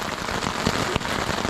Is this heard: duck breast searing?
no